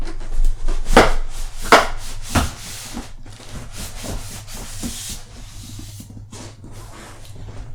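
A Fractal Define R6 USB-C TG PC case is slid out of its cardboard box, giving a few sharp scraping rubs and thumps of cardboard and foam packing followed by softer rustling and shuffling, close by with no talk.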